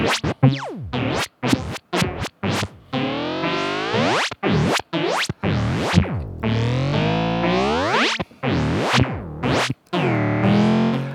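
A modular synth effect scans through all eight modes on two banks: electronic tones sweep and warble through shifting timbres, cutting in and out with brief gaps, loud and continuous without any voices.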